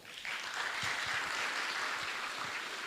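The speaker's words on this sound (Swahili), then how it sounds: "Wapigieni makofi." A university audience bursts into applause, dense continuous clapping that rises quickly and holds steady for a few seconds.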